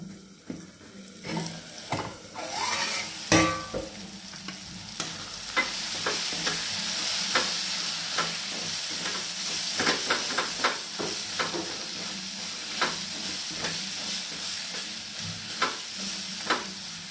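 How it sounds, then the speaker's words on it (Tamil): Tomatoes sauté in a pan on a stovetop with a steady sizzle, and a spoon stirs and scrapes repeatedly throughout. No one speaks. "தக்காளி நல்லா வதங்கட்டும் இன்னும் ஒரு தடவை மூடி வச்சு வதக்கிடலாம்"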